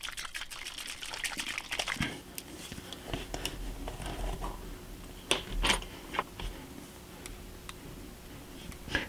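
A container of stain used for weathering a model gas station workbench is shaken vigorously, giving a continuous stream of close, wet rattling and sloshing ticks with a few louder knocks.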